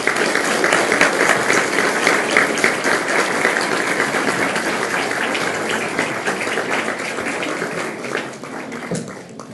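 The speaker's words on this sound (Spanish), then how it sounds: "les pido un aplauso" Sustained applause from an audience thanking a panel at a clinical diagnostics talk, dense and steady throughout, fading slightly near the end.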